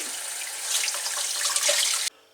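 Tap water runs steadily into a sink while palamut fish are washed, a close splashing gush that stops abruptly near the end.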